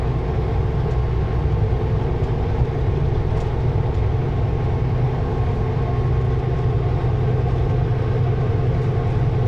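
A Super B semi truck's engine pulling at full throttle while hauling a load up a grade, with a loud, steady low rumble and road noise from inside the cab, unbroken and with no talking.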